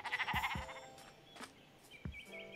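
In Minecraft, a sheep bleats from the game audio. Two short wavering bleats come close together, and a third follows a moment later over a quiet background with a few soft game effects.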